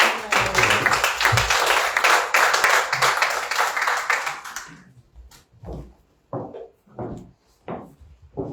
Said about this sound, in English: Brett, a round of applause again.